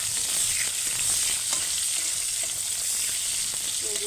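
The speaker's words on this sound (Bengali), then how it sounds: "চিংড়ি মাছটা একটু ভেজে নিলাম হালকাভাবে।" Prawns fry lightly in oil with panch phoron in a wok, giving a steady, close, bright sizzle with faint crackles and occasional stirring scrapes throughout.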